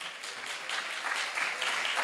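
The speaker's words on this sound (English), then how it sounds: "I think everybody deserves a round of applause." Applause at an alumni meet for a medical department's centenary celebration, a short even burst of crowd clapping heard alone.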